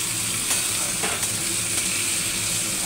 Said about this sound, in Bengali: ভালো করে নাড়িয়ে চাড়িয়ে সুন্দর করে প্রথমে ফ্রাই করে নিতে হবে।